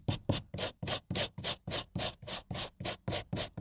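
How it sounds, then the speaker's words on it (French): A brush loaded with all-purpose cleaner scrubs the dirty lower interior trim of a Mercedes SLK 350 in brisk, even back-and-forth strokes, about three per second, close and soft, with no talking. "Le bas là je le fais à la brosse parce que j'ai l'impression que c'est vraiment très sale"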